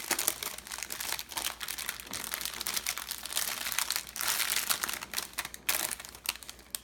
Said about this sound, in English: Sorry for the noise of this paper,